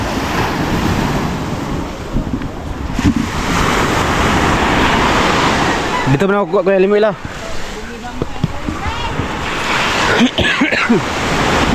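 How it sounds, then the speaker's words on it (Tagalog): Strong sea waves at the shore make a loud, constant roar with heavy wind rumble, while someone speaks briefly over the surf. "Ang lakas ng alon."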